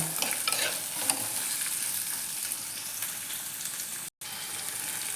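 Steady sizzling of shallots frying in a pan, with light scraping from stirring throughout and a brief drop to silence near the end.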